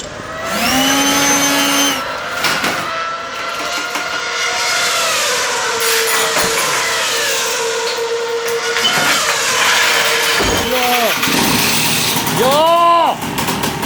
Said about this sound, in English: He's trying to start the mobility scooter!